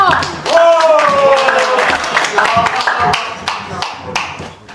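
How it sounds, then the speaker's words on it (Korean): An audience at an indoor lecture event claps in a run of sharp, overlapping hand claps, with a loud voice shouting over the start before the clapping thins out. "우렁찬 박수와 함성!"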